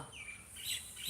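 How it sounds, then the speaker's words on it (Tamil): Common myna birds call outdoors with a few faint, distant chirping and squawking notes over a soft background hiss. "மைனா கத்துற சத்தம் கேட்குதா"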